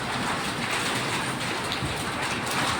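Heavy rain from Super Typhoon Ragasa pours down in Macau amid flooding, a dense, steady hiss, close and continuous with no breaks.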